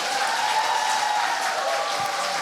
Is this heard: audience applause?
yes